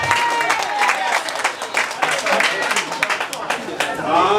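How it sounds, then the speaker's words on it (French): An audience at an association's anniversary gathering breaks into lively, sustained clapping, dense and close, with some voices and chatter mixed into the applause. "Applaudissez pour Daniel."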